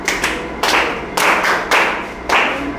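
Children in a nursery class do a rhythmic thank-you clap together, four crisp group claps at an even beat, close and loud.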